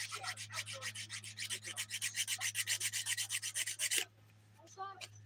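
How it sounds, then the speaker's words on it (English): Pinky fingernail being filed during a dip powder manicure, a steady close rasping of rapid back-and-forth strokes for about four seconds over a low hum, then stopping, followed by faint rustling. "I'm going to move over to my pinky and start filing this."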